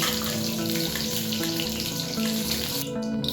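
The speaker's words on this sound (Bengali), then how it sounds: "পটলগুলো লাল লাল করে ভেজে নেওয়া হয়ে গেছে" Pointed gourd (potol) pieces fry steadily in hot oil, giving a continuous close sizzle with soft tonal background music over it throughout.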